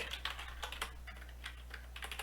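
Steady clacking of computer keys, typed in quick uneven bursts over a low constant hum.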